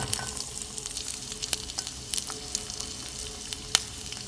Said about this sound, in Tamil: மிளகாய் எடுத்ததும் பூண்டை சேர்த்துக்கோங்க. பூண்டு கொஞ்சமாக வதங்கினதும் தேங்காயை சேர்த்துக்கலாம்.